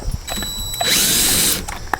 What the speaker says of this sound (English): I'm just going to use my drill